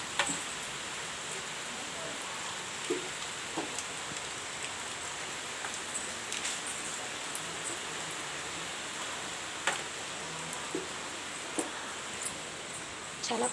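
Heavy evening rain falls steadily, a dense even hiss of drops on surfaces with occasional sharper ticks and patters, continuous throughout with no talking.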